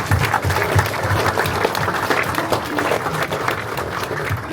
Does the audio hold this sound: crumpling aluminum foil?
no